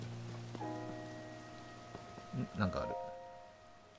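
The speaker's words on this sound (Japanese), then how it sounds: "雨はやめて。" Rain falls steadily in Zelda: Tears of the Kingdom at a wetland lookout, a soft even hiss throughout with faint game tones on top and a short spoken remark near the end.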